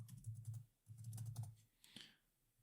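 Keystrokes patter in two quick bursts on a computer keyboard, close and fairly quiet, with a low hum beneath and a brief softer tap near the end.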